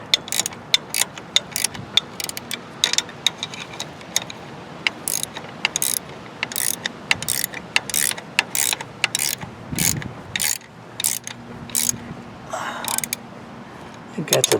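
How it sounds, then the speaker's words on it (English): A ratcheting wrench tightens bolts on a snow dozer blade fitted to a Wheel Horse tractor, producing rapid bursts of sharp metallic clicks in repeated strokes, close and fairly loud, with someone talking in between. "But these ratcheting wrenches are pretty good"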